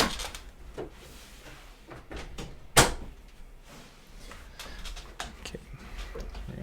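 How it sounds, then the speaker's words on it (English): A door shuts with a single firm thud partway through, against low room noise and faint movement. "let me close my door."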